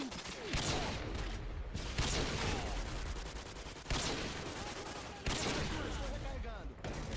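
Rapid bursts of gunfire from a Call of Duty match, dense overlapping shots in several long volleys separated by brief pauses, loud and continuous throughout.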